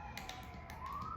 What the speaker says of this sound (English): Let's remember, you hear that siren?